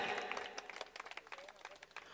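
Scattered clapping from the audience at a prize ceremony for a local cricket premier league, faint and uneven, with sharp, irregular claps over a quiet hall and some talking in the background.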